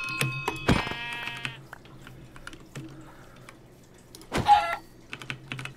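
Sheep in Minecraft on a ManaCube server bleat twice, short nasal wavering cries separated by quiet, with keyboard typing clicks scattered throughout.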